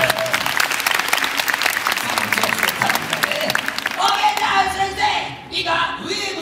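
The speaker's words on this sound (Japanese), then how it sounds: "いいね、拍手。" Loud, sustained audience applause at the Universal Monster Live Rock and Roll Show at Universal Studios Japan, crowd clapping densely for several seconds with voices mixed in, then thinning as a performer's amplified voice and cheering take over.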